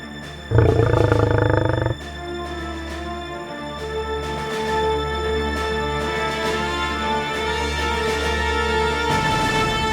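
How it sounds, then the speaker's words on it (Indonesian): Deep roaring of hungry lions in a dark, cold cave, a loud burst near the start followed by sustained low growling rumbles under an eerie droning background. "Bayangkan suasana di dalam gua itu. Gelap, dingin, dan singa-singa lapar."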